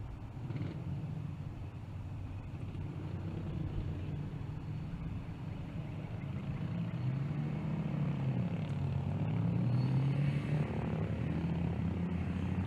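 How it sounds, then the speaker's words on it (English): A 2017 Ford F-150 pickup makes an eighth-mile drag strip pass at Tulsa Raceway Park, a broad engine roar heard from a distance that swells and climbs in pitch as it accelerates, with crowd and ambient noise around it. "And there goes that F-150, running the 660-foot 8th mile."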